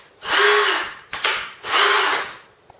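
JCB 18-volt brushless combi drill run twice in close succession, each a loud, smooth high whir lasting about a second that winds up and spins down, with a brief click between runs.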